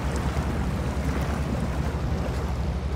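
A Mahindra Thar 4x4 ploughs through deep water, a steady, loud low churning and wash of water with engine rumble running throughout, no voices.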